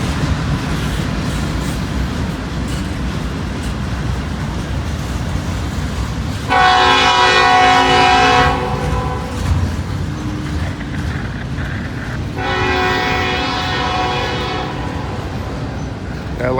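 A long freight train rumbles past steadily while its horn blasts twice, a loud sustained blare followed later by a second, slightly softer one, over continuous wheel and rail noise.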